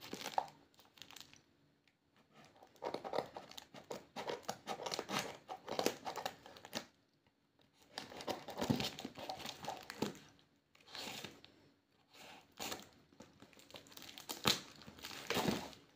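Parcel shipped from Istanbul to Ankara being unboxed, with plastic packaging crinkling and tearing in close, bursty rustles separated by short pauses.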